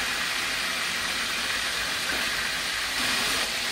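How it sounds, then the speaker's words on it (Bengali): Broiler chicken pieces being lightly fried in a pan give a steady, fairly loud, even sizzle that runs unbroken for the whole stretch, with no talking. "চিকেনটা হালকা ফ্রাই করবো যাতে জুসিনেসটা থাকে।"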